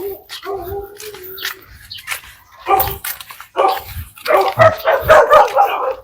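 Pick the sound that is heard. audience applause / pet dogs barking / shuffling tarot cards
pet dogs barking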